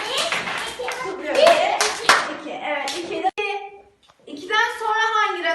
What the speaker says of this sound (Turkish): Ve iki tane daha alkış yapıyoruz.